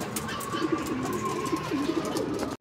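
Racing pigeons cooing at a club training loft, several soft throaty coos repeating in an uneven rhythm, fairly close, before the sound cuts off abruptly.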